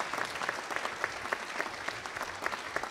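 Steady audience applause at a piano gala concert of an international piano competition, dense rhythmic clapping from a hall crowd, fairly distant and even throughout.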